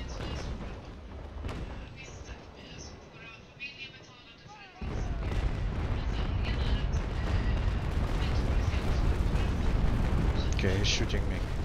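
Naval gunfire from warships in a video game around the Tuxpan area, a dense rumbling barrage of booms that swells loud after a quieter opening, with players talking over it.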